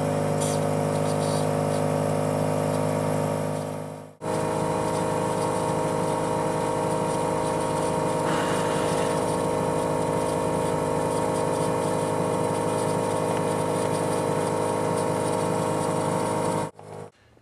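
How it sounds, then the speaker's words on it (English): A smoke machine pumps smoke into a car's intake system during a vacuum leak test for lean codes P0171 and P0174. It gives a loud, steady, close whirring drone that breaks off briefly, runs on unchanged and then cuts out. "Now we just let the smoke machine run and start looking for it."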